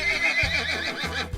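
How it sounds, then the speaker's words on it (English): A light brown horse whinnies in a loud, close, quavering neigh that runs nearly the whole moment, with a short snort-like burst at the end and no speech. "Here we have a light brown horse"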